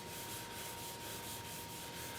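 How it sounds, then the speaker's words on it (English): Soft, steady rubbing as Howard Feed and Wax is worked into a freshly sanded pink dogwood winged bowl, a quiet, continuous brushing hiss with faint rhythmic strokes, close and alone. "I'm applying the Howard Feed and Wax."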